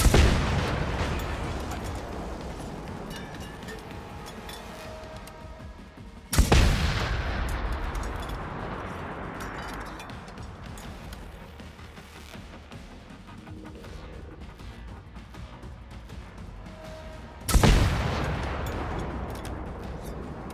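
Gunfire in the video game Generation Zero: three sharp heavy blasts spaced several seconds apart, each trailing into a long rumbling, crackling decay with scattered distant pops between.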